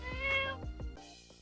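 A cat meows several times in quick succession, close and fairly loud, with drawn-out harmonic cries followed by shorter ones and no talking.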